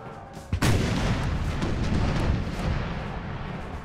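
Howitzer artillery fires in the Empire: Total War video game: one sharp, loud cannon boom followed by a long rumbling roll of distant battle noise, with no talk over it.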